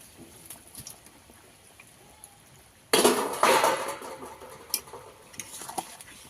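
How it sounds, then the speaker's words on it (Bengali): Pieces of fried fish dropped into a pot of boiling curry, a sudden loud splash and crackling sizzle that bursts in midway after quiet bubbling, then settles into sputtering with a few sharp clinks. "এবারে দিয়ে দেব মাছ ভেজে রাখা মাছ"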